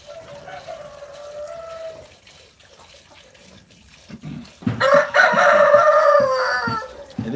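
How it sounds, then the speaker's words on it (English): Roosters on a farm during morning chores, with one faint drawn-out crow early, then a louder, closer burst of crowing and clucking near the end over scattered rustling and knocks. "All those roosters messing around have slowed me down."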